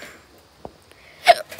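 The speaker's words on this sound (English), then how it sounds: "I have the hiccups." One hiccup sounds up close from a person standing at a backyard chicken coop, a short sharp catch in the throat that stands out against quiet surroundings, with a faint click heard just before it.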